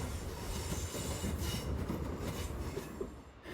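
A Castle Class 43 HST train rolls past on the South Devon line between Starcross and Dawlish, a steady, loud rumble of wheels and engine that fills the whole stretch without pause.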